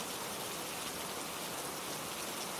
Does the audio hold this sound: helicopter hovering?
no